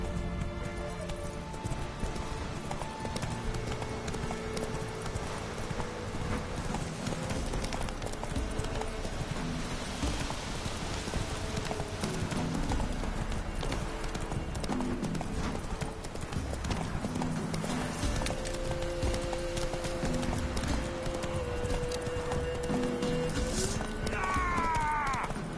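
Roach the horse trotting in The Witcher 3, a steady rhythmic clip-clop of hooves over a game soundscape with a faint whinny and musical tones.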